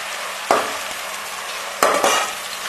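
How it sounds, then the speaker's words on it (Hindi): Garlic and ginger paste frying with onions in a pan for a bitter gourd curry, giving a steady sizzle with two sharp stirring scrapes of a spoon against the pan, close and without talk. "मैं इसमें लहसुन और अदरक का पेस्ट डाल दूंगी और थोड़ी देर भूनूंगी"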